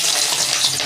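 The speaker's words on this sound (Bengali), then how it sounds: "এখন আমি আলুগুলো ভেজে নিচ্ছি।" Potato pieces fry in hot mustard oil, making a loud, bright, even hiss that runs without a break for a moment.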